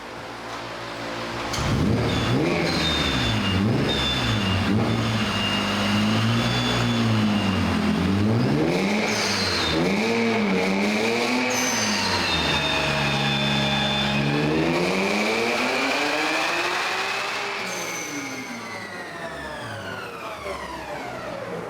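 A BMW E46 M3 engine revs hard on a dyno, its pitch rising and falling in repeated sweeping pulls before climbing high and easing off, loud and close with a steady roar throughout.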